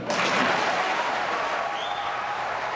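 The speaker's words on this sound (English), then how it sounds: "he got a loud round of applause for saying that" A crowd applauds loudly and continuously, a thick wash of clapping with a faint murmur of voices underneath.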